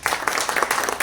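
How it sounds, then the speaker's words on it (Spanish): Audience applause at a literary event at a book fair, a dense burst of many hands clapping close and loud for about a second. "Un aplauso también."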